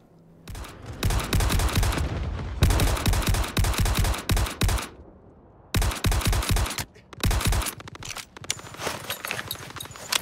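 In the video game Star Citizen, bursts of rapid gunfire strike a spaceship, loud clattering volleys broken by brief pauses, with dense crackling impacts throughout.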